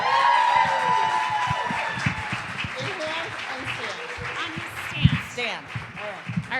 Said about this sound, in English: Please give a big round of applause for Mel.